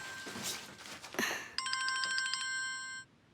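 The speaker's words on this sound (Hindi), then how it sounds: "अब तुम्हारा फोन बज रहा है बेटा" A mobile phone rings with a bright electronic chiming pattern for about a second and a half, loud and close, just after a brief stretch of background sound.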